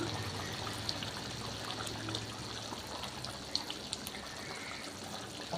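Tamarind kuzhambu curry with bitter gourd and black-eyed peas bubbles steadily in a pot, a soft continuous simmering hiss and trickle with faint pops, close and even throughout.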